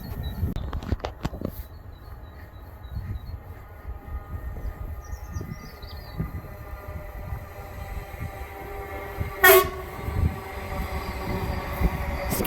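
A Greater Anglia train runs near Enfield Lock station with a steady rail rumble under faint background noise. Around nine seconds a loud, brief horn blast sounds close by, followed by a shorter, softer toot.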